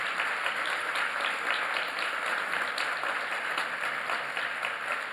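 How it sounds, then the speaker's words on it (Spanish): Steady applause from an audience, moderately loud and continuous, with no voices standing out. "demos un gran aplauso y un agradecimiento"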